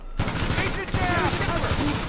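Rapid automatic gunfire in GTA Online, a dense fusillade of close, loud shots rattling continuously after a brief quiet start, with a voice talking over the shooting.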